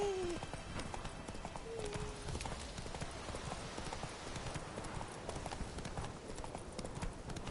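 Horse hooves clip-clopping at a trot in The Witcher 3 video game, a quick steady rhythm running throughout, fairly faint, with a brief neigh near the start.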